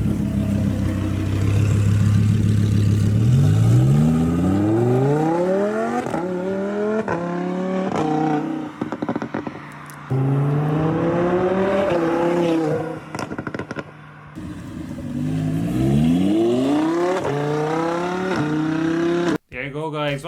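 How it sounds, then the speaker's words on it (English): A Lamborghini Huracán exhaust roars loudly through several hard revs, pitch sweeping upward each time with crackles and pops between pulls, up close. "So check out the exhaust on this Huracan."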